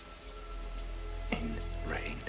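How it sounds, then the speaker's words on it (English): Heavy rain pours outside as a steady, soft hiss under faint room tones, with a few brief fainter sounds over it. "it's pouring rain outside"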